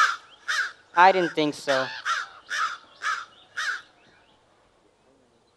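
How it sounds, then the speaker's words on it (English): Several crows caw in loud, harsh calls, one after another in a quick series, with a person's voice breaking in among them partway through before the calls trail off. "I can't even scare these crows."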